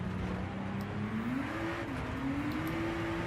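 A hypercar engine in Gran Turismo 7 at the Red Bull Ring drones steadily, its pitch climbing as it shifts up a gear partway through, a continuous mid-level whine with no speech.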